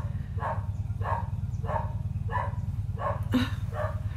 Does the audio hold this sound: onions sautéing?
no